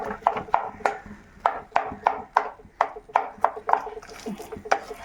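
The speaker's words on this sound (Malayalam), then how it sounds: "ഇനി നമ്മൾ തവി വെച്ച് നല്ലപോലെ ഒന്ന് ഉടച്ചു കൊടുക്കുവാണ്" A ladle mashes cooked plantain in a pot for payasam, giving a series of irregular wet thuds and scrapes, close and fairly loud with short pauses between strokes.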